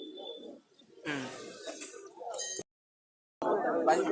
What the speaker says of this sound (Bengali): আমি একটা খাঁচায় কিছু কবুতর আপনাদের দেখাচ্ছি